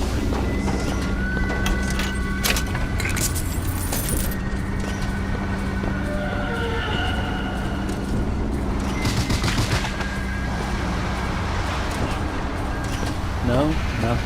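Fireworks going off during a carnival scene in the video game Bioshock Infinite, a run of rapid crackling pops and bangs mixed with game noise and someone talking throughout.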